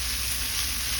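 Shrimp frying with bitter gourd in a pan, a steady close sizzle without talk.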